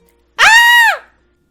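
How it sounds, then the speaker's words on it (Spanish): A woman gives a single piercing scream in a dramatized audio story, loud and close, rising sharply, holding for about half a second, then trailing off into silence. "Desde detrás de nosotros, un grito desgarró el aire."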